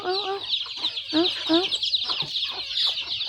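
Chickens clucking in short, repeated bursts at close range over a steady high insect-like hum, with several birds overlapping in an uneven rhythm.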